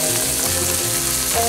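Broccoli pieces frying loudly and being tossed in a hot pan, giving a dense, continuous sizzle with a steady crackle up close and no talking.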